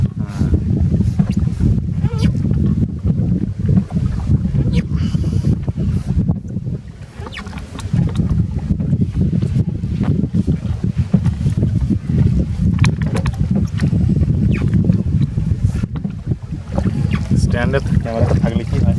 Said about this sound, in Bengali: এরকম ভালো নৌকা।